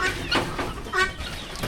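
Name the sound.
hen clucking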